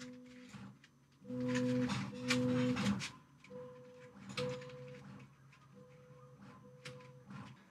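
A Bambu Lab X1C 3D printer runs its calibration routine, giving out a series of steady humming tones at a few fixed pitches in short bursts, close and moderately loud over a faint background hum.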